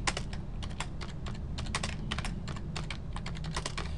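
Quick, uneven keystrokes clatter on a computer keyboard while working in Excel 2010, clicking up close and clearly with brief pauses between bursts.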